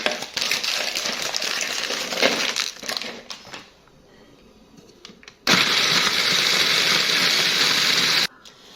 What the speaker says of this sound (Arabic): دروك نطحنوا لي بسكويت تاعنا